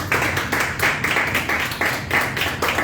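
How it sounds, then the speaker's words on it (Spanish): A church congregation claps in unison at a worship service, steady rhythmic claps about four per second, moderately loud and close, with no talking on top. "Dale un aplauso,"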